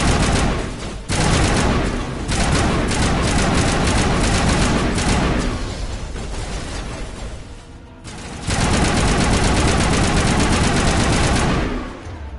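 Weapons firing in Mass Effect Legendary Edition, long loud bursts of rapid automatic gunfire broken by brief pauses, dense and continuous at close range.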